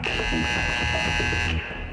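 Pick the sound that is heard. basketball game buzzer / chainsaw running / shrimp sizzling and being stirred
basketball game buzzer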